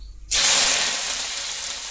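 Chopped chili, finely cut onion and garlic hit hot oil with a sudden loud hiss that holds as a steady, bright sizzle, close and alone.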